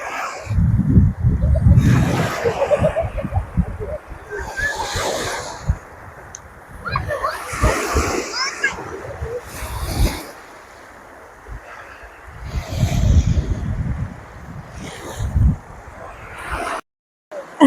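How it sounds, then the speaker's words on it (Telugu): Sea waves break and surge on a beach in Muscat, Oman, in loud recurring washes of surf with gusty wind buffeting the microphone, while people talk between the breakers. "ఇక్కడ అలల్ సౌండ్ విన్నారు కదా"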